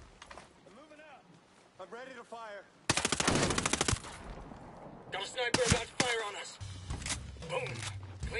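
Bursts of machine gun fire from a mounted gunner in the shooter Ghost Recon Breakpoint rattle loudly in a dense volley partway through, with more shots and clatter later, between stretches of talk and game sounds.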